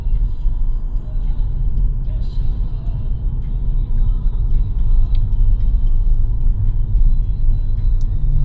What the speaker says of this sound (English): There's another car coming, I'm gonna let him go.